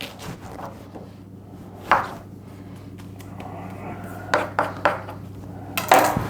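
A knife chopping leek into half-inch pieces for a bacon, egg and leek pie, with soft scattered taps and a few sharper knocks on the board and dishes, clustering near the end.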